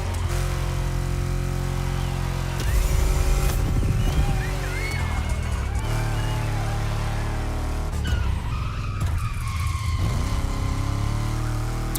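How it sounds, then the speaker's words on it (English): Car engines revving in The Crew Motorfest racing game set in Oahu, Hawaii, with steady loud engine drone and repeated rising rev surges, over continuous game music. "hear these engines"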